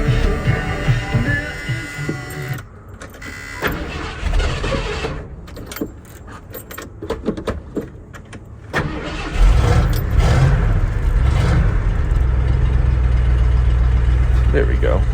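A 1978 Ford F150 4x4 truck cranks and starts after some handling noises, then settles into a steady, loud, low idle rumble close by.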